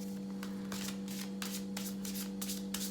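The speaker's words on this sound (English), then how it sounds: "I'm gonna pull 3 cards only here today." Tarot cards shuffled by hand before a three-card pull, a quick series of crisp riffling bursts repeating in an uneven rhythm, close and steady, with no talking over them.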